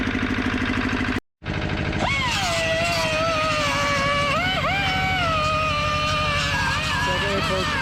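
A 1959 Fordson Power Major twin diesel engine runs steadily and loudly up close, its low rumbling drone continuous except for a brief cutout early on, with a rising whine layered over it.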